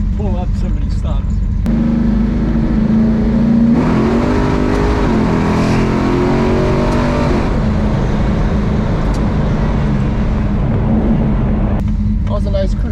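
A 1970 Oldsmobile 442 W30 muscle car engine rumbles steadily from inside the vehicle, rising as it accelerates before settling back to a low drone, with people talking over it.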